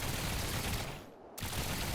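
Rapid cannon fire from six smart cannons on a fighter jet in Trailmakers, a dense, loud barrage that cuts out briefly near the middle and then resumes.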